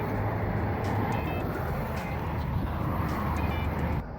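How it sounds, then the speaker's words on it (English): A truck's tire rubs against the body as a failing wheel bearing lets the wheel wobble, heard as a steady low grinding roar under continuous road noise while the truck rolls along. "Notice the tire rubbing."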